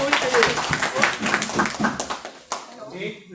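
An audience at a large rural gathering for people with disabilities claps in scattered bursts beneath someone speaking loudly, the claps thinning out toward the end.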